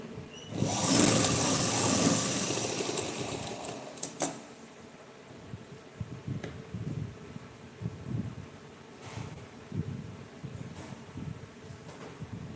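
A sewing machine stitches the shoulder seam of a simple blouse, a loud whirring run at first, then short intermittent bursts of stitching with quiet pauses between.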